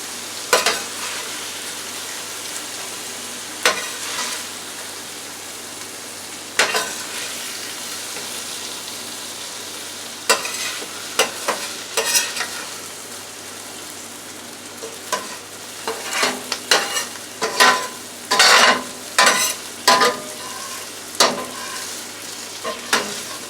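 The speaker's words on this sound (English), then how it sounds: "our sauteed peppers, onions, and mushrooms are done" Peppers, onions and mushrooms sizzle steadily in a hot pan while a utensil scrapes and stirs at irregular intervals, the stirring growing busier toward the end.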